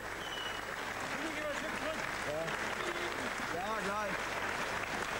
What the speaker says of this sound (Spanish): Ahí tienen los aplausos a Vladimir Sidorenko